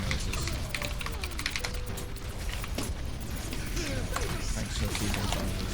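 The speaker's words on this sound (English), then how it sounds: "thanks for typing noises" Rapid keyboard typing clatters continuously through an Overwatch match, under steady talk and game sound.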